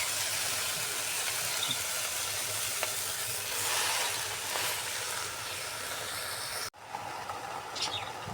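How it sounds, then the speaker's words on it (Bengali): Red amaranth greens frying in a wok, giving a loud, continuous sizzle with a sudden brief cutoff near the end before the hiss resumes more quietly. "কড়াইতে লাল শাক দিয়ে দেবো"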